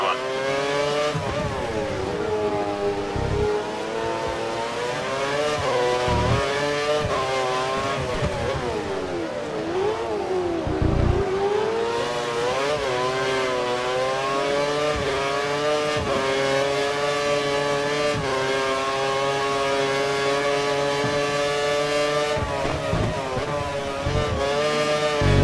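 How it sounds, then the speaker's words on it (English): An F1 car engine in the game F1 2013 screams at sustained high revs, its harmonic whine rising and dipping with gear changes, loud and continuous throughout. "He's running full revs, maximum power."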